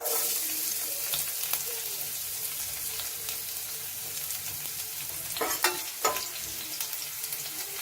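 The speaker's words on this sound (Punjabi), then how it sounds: "ਆਇਲ ਬਹੁਤ ਹੀ ਵਧੀਆ ਗਰਮ ਹੋ ਗਿਆ ਤੇ ਹੁਣ ਇਸ ਦੇ ਵਿੱਚ ਐਡ ਕਰਾਂਗੇ ਅਸੀਂ ਲਸਣ" Chopped garlic dropped into hot olive oil for veg chowmein crackles in a dense, even sizzle, punctuated by a few crisp spatula clicks and scrapes in the latter half; no voices.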